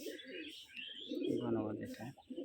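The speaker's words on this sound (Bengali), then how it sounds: "এই যে এখানে একটা মতি চোখের নর কবুতর নিয়ে আসছে ভাই" A male pearl-eyed pigeon cooing in a backyard loft, low throaty rolling coos that swell in the middle, heard close alongside someone talking.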